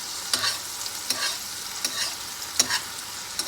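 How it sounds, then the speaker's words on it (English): Sirloin steak basted with a spoon in a tipped, sizzling pan: a bright continuous sizzle with repeated spoon scoops and clinks at irregular intervals, close up. "You're just going to repeat this a couple times, just constantly flipping and basting."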